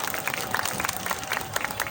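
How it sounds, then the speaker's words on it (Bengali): Applause from an audience at a livestock and bird exhibition on an outdoor fairground, a dense patter of claps that runs steadily through the whole stretch, with crowd murmur and voices mixed underneath. "হাসান ভাই জন্য সবাই একটা জোরে হাততালি"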